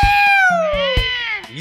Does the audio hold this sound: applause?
no